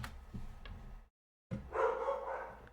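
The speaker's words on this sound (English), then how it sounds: "Oh, there goes the dog." A dog barks nearby in a home, a short burst followed by a brief silence and then a louder bark and yelp, fairly faint overall.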